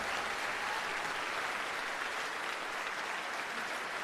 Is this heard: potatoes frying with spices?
no